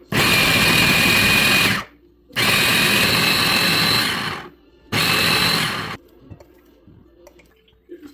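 Electric food grinder runs in three loud, steady bursts of whirring motor noise separated by short pauses, then falls quiet with faint clatter at the end.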